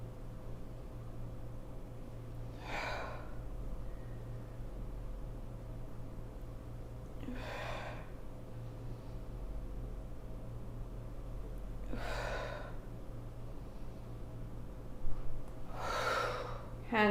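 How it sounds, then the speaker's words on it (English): Yoga breathing during a kundalini session: four loud, sharp breaths spaced about five seconds apart over a low steady hum, with quiet stretches between them. "Inhale up, and exhale down."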